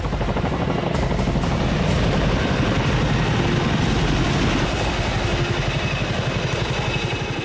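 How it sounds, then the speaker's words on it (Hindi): A powerful American military attack helicopter flies with a steady, loud, rapid rotor chop and engine roar throughout, close and continuous with no talk. "अमेरिका में बना सबसे ताकतवर और सबसे घातक हेलीकॉप्टर।"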